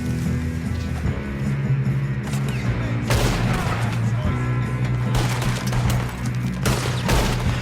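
In the Red Dead Redemption 2 video game, gunfire goes off during a train robbery: repeated loud sharp shots and volleys crack over a constant low rumble, with short gaps between bursts.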